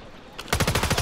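Rapid automatic gunfire in Warzone 3, a fast burst of loud, close shots in a steady stuttering rhythm after a brief quieter lead-in.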